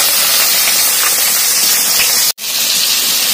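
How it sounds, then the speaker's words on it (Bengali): Fish frying in a pan for a curry, a loud, dense, continuous hissing sizzle close by that cuts out briefly for a moment before resuming. "তাই এখন মাছগুলোকে ভাজা করছি"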